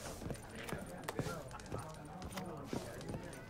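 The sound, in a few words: horse hooves in video game The Witcher 3: Wild Hunt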